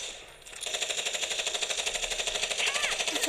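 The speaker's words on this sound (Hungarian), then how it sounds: "Csak úgy átlagosan kell embert lövöldözni." Rapid automatic gunfire from the Gangstar Vegas video game comes as a steady stream of evenly spaced shots lasting about three seconds, loud and continuous.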